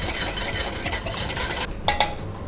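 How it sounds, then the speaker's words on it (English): Rapid whisking of an egg in a bowl, a close, busy rhythmic clatter and swish that stops abruptly, followed by a couple of light taps. "give it a nice whisk to the egg"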